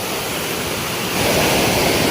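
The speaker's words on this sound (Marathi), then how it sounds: "आवाज धबधब्याचो जास्त माझो कमी" A small waterfall in a monsoon-swollen village stream gives a continuous, close rushing roar of falling water that swells louder halfway through, with no voices.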